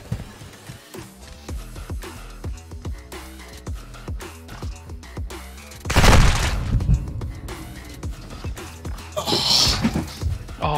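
Gunfire rattles in a video game shooter, with rapid bursts of shots, a heavy blast midway and further loud bursts, all close and punchy, while players chat.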